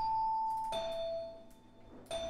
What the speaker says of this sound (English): Next up, we have the celeste.